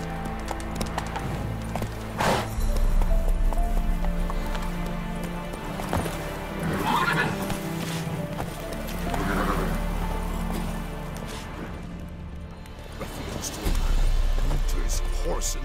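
Roach the horse from The Witcher 3 gallops in steady clip-clop hoofbeats with a brief whinny, all over constant game music and ambience.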